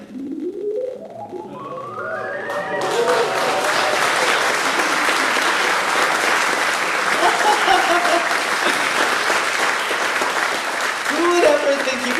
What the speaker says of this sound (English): Get an applause for that.